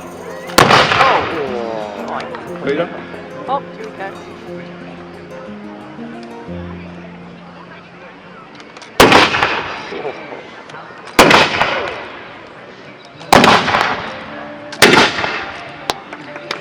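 At a Celtic festival reenactment, muzzle-loading guns firing 3/4-inch lead balls let off five loud, booming blasts at uneven intervals. Each boom rolls and echoes, and people talk between the shots.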